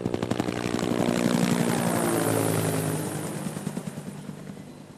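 A Cal Fire firefighting helicopter thunders close by, its rotor beating in a rapid, steady chop over a loud engine whine, then the rotor pulses grow more distinct as it recedes slightly.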